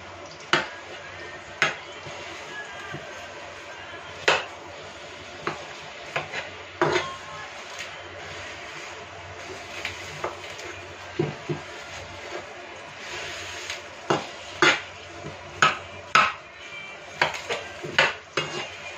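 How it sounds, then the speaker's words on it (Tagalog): Cooking adobong sitaw: clinks and scrapes of a utensil against a pan as chopped onions go in, with irregular metallic taps and stirring knocks over a soft background hiss. "Ilagay na po natin ang sibuyas."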